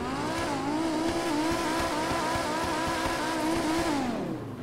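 A modded twin-turbo Lamborghini in GTA 5 roars under sustained throttle, its engine tone climbing and holding as it shifts, then dropping away at the end, loud and close with no talk.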